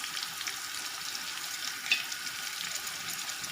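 Sliced onions sizzle steadily in hot oil as the base for a beef biryani, a soft, even hiss close by with one small pop partway through.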